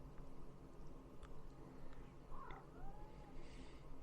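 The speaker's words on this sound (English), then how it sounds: "My kitty wants in." A house cat meows faintly at a door, asking to be let in, with one short, rising cry over a quiet indoor background.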